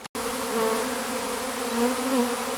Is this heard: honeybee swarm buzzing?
yes